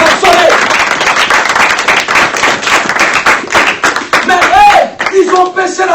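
Congregation clapping and applauding during a French-language church sermon, loud dense claps filling the space steadily, with a preacher's voice calling out over the applause.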